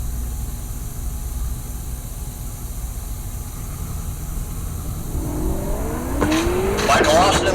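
A 6th-gen Camaro race car at the Heartland Park Topeka drag strip. A low, steady engine rumble rises into sweeping, revving tones and squealing tires during the final seconds, with an announcer talking.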